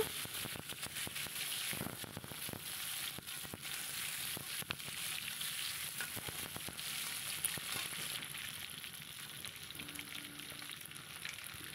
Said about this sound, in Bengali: তেলের ওপরে দিয়ে আরেকটু আলুগুলো নেড়ে নেব